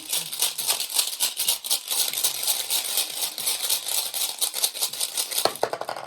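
Rune stones shuffled by hand give a rapid, continuous clatter of close, dry clicks and clacks that carries on steadily with no voices.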